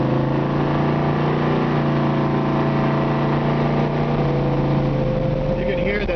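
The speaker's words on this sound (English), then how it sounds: "You can hear that the transmission just shifts out seamlessly." A 1970 Camaro with a 454 big-block V8 and MagnaFlow exhaust drives along with a loud, continuous engine drone heard from inside the car, its pitch dropping smoothly as the automatic transmission shifts near the end.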